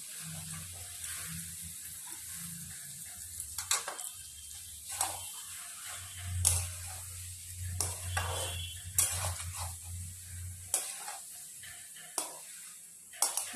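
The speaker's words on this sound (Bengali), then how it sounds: "সোয়াবিন আর আলু দিয়ে দেবো। এবার মশলার সঙ্গে কষিয়ে নেব।" Soybean chunks and potatoes sauté in spice paste in a pan, giving a soft, steady sizzle with intermittent stirring scrapes and a low background hum.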